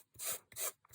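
A sanding block rubs along the roughed-up edges of layered paper in a mixed media décollage piece. Two close, steady rasping strokes each last about a quarter second, with a quieter scrape starting at the end.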